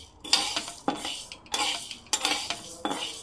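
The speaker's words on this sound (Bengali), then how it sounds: "এবার বিউলির ডালটাকে দিয়ে ভাজতে থাকবো" Urad dal being fried and stirred in a kadai: a spatula repeatedly scrapes and clatters against the metal pan in quick rhythmic strokes over a faint sizzle, close and clear.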